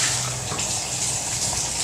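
Fresh spinach leaves going into a pot of boiling tomato water for palak keerai kadaiyal, a steady close bubbling and watery rush filling the whole moment with no voices.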